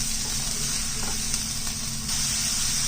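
Mushrooms cooking down with onion and garlic in a pan give a steady, close hiss of sizzling that holds evenly throughout, with no voices over it.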